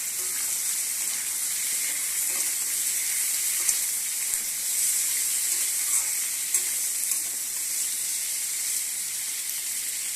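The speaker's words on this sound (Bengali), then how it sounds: "পেঁয়াজটা ভাজা ভাজা হয়ে যাবে" Onion, tomato and green chili fry in hot oil in a pan for a fish and eggplant curry, giving a steady, close sizzle and crackle that runs evenly throughout with no talking.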